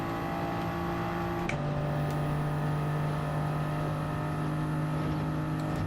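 A Toyota Supra race car engine from Gran Turismo 7, racing at Circuit de Spa-Francorchamps, drones at steady high revs, then shifts up with a brief break and settles into a new sustained tone, fairly quiet.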